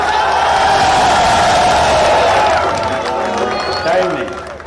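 A ceremony crowd in Mianwali claps and cheers in a loud, dense roar that holds steady, then thins and fades toward the end.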